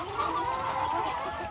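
RTL chickens clucking in a soft, continuous chatter at moderate distance, a brief burst of hen calls with no talk over it.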